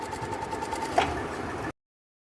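A sewing machine runs steadily, stitching dori piping onto the edge of fabric, with one brief louder knock near the middle. The whole passage is a continuous mechanical whir that stops abruptly.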